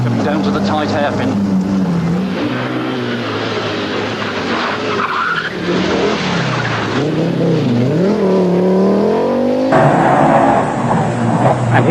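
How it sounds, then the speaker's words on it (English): An Audi Quattro rally car drives through a tight hairpin on a rally stage, its engine rising and falling with tyre scrub as it swings through the bend, while a commentator talks over it. "David Llewellyn using every inch of the road to set a scorching pace in the Audi Quattro"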